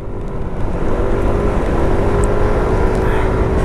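A Yamaha Aerox Alpha scooter, carrying the Lexi 155 Blue Core engine, runs on a racing circuit with a loud, steady, close engine drone throughout.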